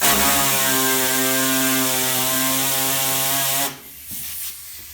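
A power sander works the hood gap on a Fox Body race car, giving a steady droning whine that runs unbroken for nearly four seconds, then cuts off, leaving a brief quieter tail.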